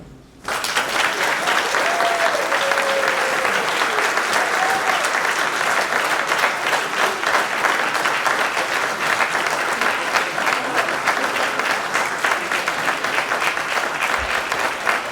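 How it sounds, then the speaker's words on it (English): Sustained crowd applause at an awards banquet, loud and steady, continuing for the whole stretch after a brief quiet start, with many hands clapping together. "Let's give him a great big round of applause."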